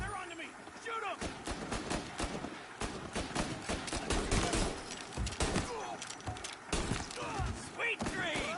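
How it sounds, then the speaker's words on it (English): Gunfire erupts in a tense Mafia Definitive Edition cutscene, a dense burst of sharp shots and thuds ringing out over loud music and action, with voices shouting in between. "Shoot him."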